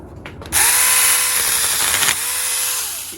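A Saker Mini E electric pruning saw cuts through fruit tree wood, its motor kicking in loud after a brief pause and whining steadily, with the pitch dropping and rising as the blade bites into the branch, close up.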